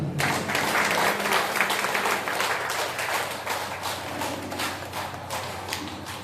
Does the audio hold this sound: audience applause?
yes